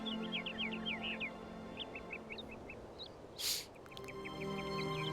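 Quick, high bird chirps in a video game repeat in short bursts over a low ambient hum, with a brief hiss midway; moderately loud, no talking.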